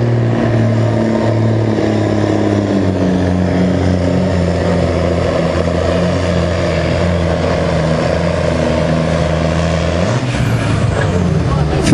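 An 8.5-ton sport class truck makes a tractor pulling test run, its engine a loud, sustained roar with steady harmonic drone throughout and a sharper surge near the end; a commentator talks over it.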